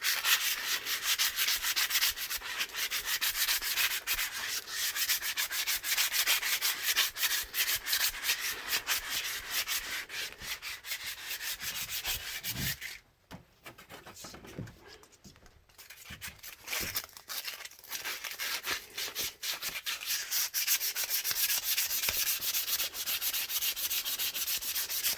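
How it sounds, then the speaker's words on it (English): Corrosion is scrubbed off a Mopar distributor shaft with a steady, close, abrasive rubbing and sanding sound that runs almost continuously, pausing briefly midway before resuming. "You'd want to, of course, clean all the corrosion off of this."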